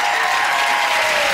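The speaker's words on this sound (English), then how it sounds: "a big round of applause for our meerkat" A studio audience on a comedy panel show gives a loud, dense burst of applause that fills the whole moment with no pause.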